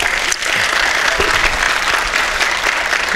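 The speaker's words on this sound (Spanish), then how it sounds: "denle un fuerte aplauso a la ponente" Loud, sustained audience applause at an academic talk on megaprojects in Mexico, dense clapping from a full room that holds steady throughout without letting up.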